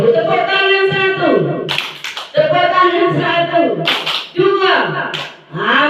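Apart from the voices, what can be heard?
audience clapping hands on count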